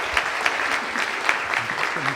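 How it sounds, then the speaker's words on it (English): Audience clapping steadily at an awards ceremony for a 48-hour film project, a dense, continuous round of applause with no talking over it. "Well, how about a round of applause for Julie?"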